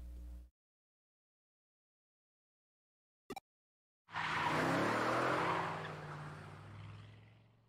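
A truck's tires screeching in the Digimon Story Cyber Sleuth: Complete Edition video game: after a brief sound, near silence and a short click, a loud sustained skid bursts in and slowly fades, alone with no voices.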